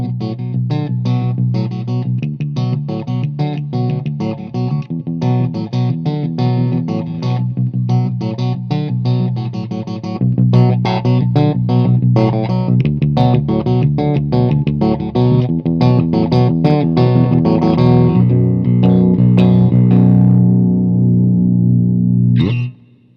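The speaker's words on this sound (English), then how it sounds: "we're doing a clean tone for a 7-string guitar" A clean seven-string electric guitar through a Yamaha THR100HD amp head plays steady chords and riffs with deep low notes and a bright, full tone, ending on a held chord that cuts off.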